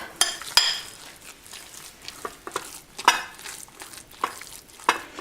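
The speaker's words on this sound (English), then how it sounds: "Right, I'm going to mix this paste up." A spoon mixes a thick paste of oats and split green lentils in a bowl, giving irregular clinks and scrapes against the sides, close and fairly quiet, with no talking.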